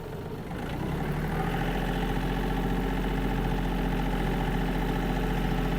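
A Yanmar AF-250 Japanese mini tractor's engine runs close and steady as the machine pulls away, a continuous loud drone that firms up after the first second and holds evenly throughout.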